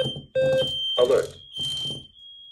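A smoke alarm's steady, piercing high-pitched tone sounds throughout, while a voice speaks in short bursts over it.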